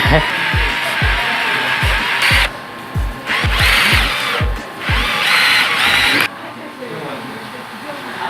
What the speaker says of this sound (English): we reached a fatal flaw with power tool meat grinder